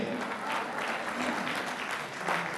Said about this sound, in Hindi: तालियां खुल के बजा दें एक बार भाई।